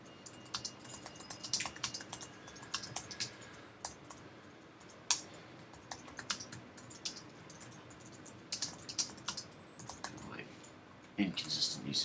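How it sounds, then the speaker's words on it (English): Sample text is typed on a computer keyboard, with quick, uneven bursts of close key clicks and occasional heavier taps and pauses, soft and intimate throughout. "I'm just going to type some sample text"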